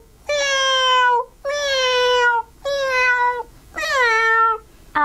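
A man imitates a cat, voicing four drawn-out meows in an even rhythm with short pauses between them, loud and close with no other sound behind them.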